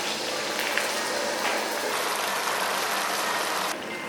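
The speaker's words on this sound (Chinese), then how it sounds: "把刚刚调好的料汁倒进去" Sweet and sour sauce hits ribbonfish that has been pan-fried golden on both sides. A loud, steady, close sizzling hiss fills the moment and drops off abruptly near the end.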